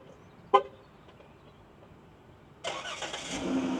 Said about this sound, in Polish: I teraz przyciśniemy odpalenie.